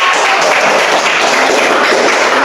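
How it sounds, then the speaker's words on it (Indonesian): A classroom claps for a student group, a dense, continuous wash of many hands clapping at once, loud and steady throughout. "Tepuk tangan buat kelompok."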